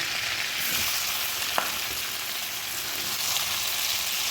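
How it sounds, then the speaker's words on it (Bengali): Onions fry in leftover oil in a kadai after fish has been cooked, a constant close sizzle with one brief sharp tick partway through. "এবারে এর মধ্যে দিয়ে দেবো পেঁয়াজ"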